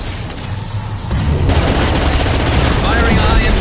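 Gunfire in the PS5 version of the video game Mass Effect 2: a dense, loud burst of rapid shots and blasts that intensifies about a second in and keeps going without a break.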